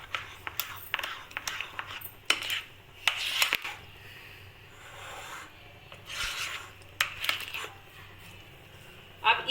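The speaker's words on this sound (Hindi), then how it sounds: "इसको अच्छा सा मिक्स कर लेंगे हम।" A spoon scrapes and rubs around a bowl while eggless marble cake batter is mixed, making intermittent close scraping strokes, with a voice talking over them.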